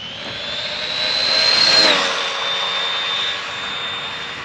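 A Typhon 223S RC car on a 3S battery runs at full throttle, a steady high-pitched electric whine that swells as it passes near and then fades slightly.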